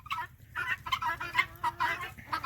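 Chickens cluck in a yard, a close run of short, choppy repeated clucks in quick succession, fairly quiet.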